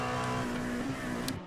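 LMP2 prototype race cars battle wheel to wheel at Sebring International Raceway in a racing video game, engines droning steadily at close range with a sustained tonal whine and no voices.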